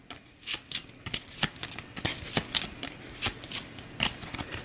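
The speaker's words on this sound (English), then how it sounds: "Give it a fresh shuffle." A deck of cards being shuffled for the board game Aeon's End, a quick series of crisp riffling flutters and soft snaps up close, with no talk over it.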